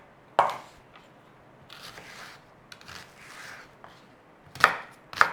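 Onion is cut into chunky pieces with a knife on a board, giving a few sharp, close chops spaced irregularly, with quiet gaps and softer scraping between them.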